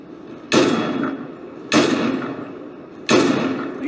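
Three sharp gunshots in the video game Fortnite, spaced about a second and a half apart, each a loud crack with a short fading tail. No one speaks.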